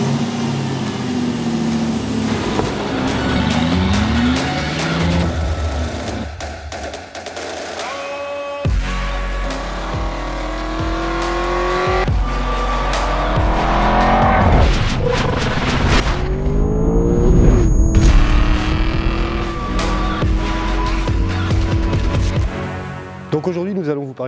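A 2008 Aston Martin V8 Vantage with a 4.3-litre V8 and a robotised six-speed gearbox accelerates through repeated rising revs and gear changes, loud and close. Talk runs over much of it.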